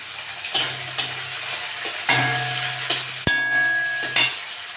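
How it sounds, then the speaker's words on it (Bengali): Fish oil and fish offal fry with onion, garlic-ginger and green chilies in a pan, a loud sizzle of hot oil pierced by several sharp clinks and scrapes of a utensil against the pan. "পটকাটা দিয়েছি, ভাজা ভাজা হয়ে গেছে।"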